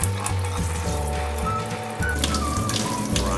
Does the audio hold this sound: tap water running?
yes